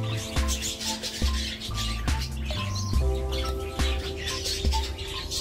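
A hen giving repeated short chirps and tweets, close by, with soft clucking and scratchy rustling between calls.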